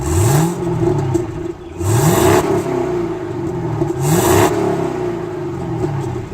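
A 2015 Chevrolet Camaro convertible V8 with stock exhaust revs repeatedly in rising surges, a mellow, fairly subdued exhaust note climbing and falling back between each push of the throttle.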